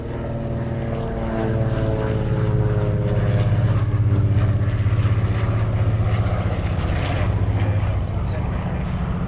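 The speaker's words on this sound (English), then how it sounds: "Coming in from the left, the Lockheed 12A Electra." Lockheed 12A Electra twin-engine propeller aircraft flying past at an airshow, a steady droning engine roar with strong harmonic hum that swells as it nears and holds loud throughout; talk may sit faintly underneath.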